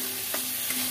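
Spice mixture frying in a pan, a steady close sizzle with two brief scraping stirs across one second.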